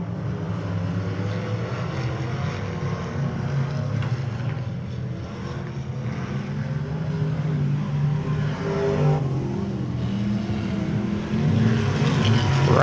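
Race cars in a KR Cup race at RPM Speedway drone around the track in a continuous layered engine roar that swells as cars pass close and fades slightly between, fairly loud and steady.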